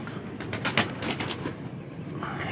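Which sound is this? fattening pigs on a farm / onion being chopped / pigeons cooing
pigeons cooing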